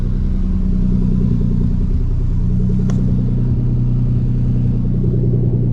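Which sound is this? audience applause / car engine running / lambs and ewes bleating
car engine running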